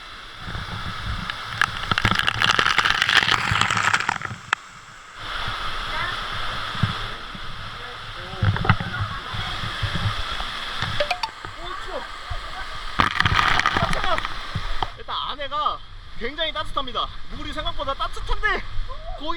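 A waterfall flows, recorded close through a waterproof camera case that muffles and distorts it into a dense, continuous rushing roar, with people talking over it throughout.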